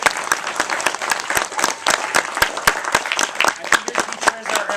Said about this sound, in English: Let's give Vernon a big round of applause.